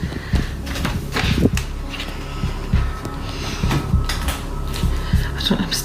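A cupboard door swings open with a few soft knocks and thumps at close range, repeating irregularly over a steady background hiss, with no one speaking.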